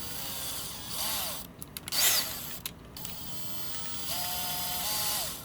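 A power drill driving a Husky paint mixer in a bucket of kelp and water whirs at low speed, its motor pitch rising and falling in steady bursts, with a few clicks and clatters in between.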